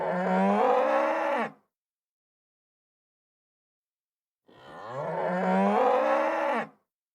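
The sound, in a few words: bull mooing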